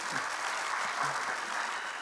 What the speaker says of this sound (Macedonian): А првиот аплауз за оркестарот на талент шоуто Македонско